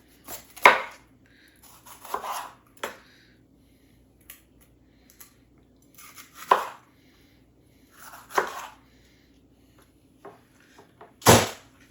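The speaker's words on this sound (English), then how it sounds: "And then we're just going to cut our pepper" A knife slicing a seeded pepper on a cutting board gives sharp, separate chops at irregular intervals, close and fairly loud, with quiet gaps between cuts.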